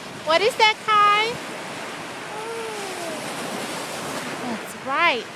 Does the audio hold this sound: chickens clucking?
no